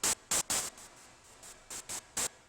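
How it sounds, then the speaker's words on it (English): TV static noise effect with room reverb and EQ, heard as short bursts of hiss switching on and off in an irregular rhythm, about eight pulses with quiet gaps, moderately faint and alone. "which noise sounds like TV static"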